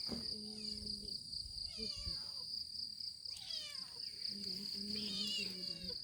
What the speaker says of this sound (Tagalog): Bumalik yung pusa oh.